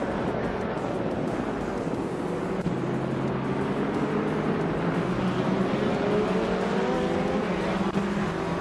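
Several race cars roar together in a racing video game, engines whining and rising in pitch as they overtake, a dense steady drone of overlapping motors.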